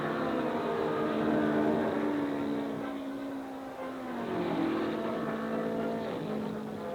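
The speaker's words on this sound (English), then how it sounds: "There's big horsepower under those hoods, and the most powerful racing cars in the world have no restrictions on engine size." Powerful racing cars with unrestricted engine sizes drift around a turn on the fast Sedalia track at a state fair, a loud sustained engine drone with rising and falling pitch as the cars pass, no voices.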